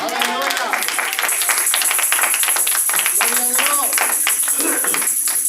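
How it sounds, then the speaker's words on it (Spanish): Church congregation clapping loudly after a call to applaud the Lord, a dense, steady round of hand claps with voices and shouts mixed in throughout. "Alguien dé un aplauso fuerte al Señor."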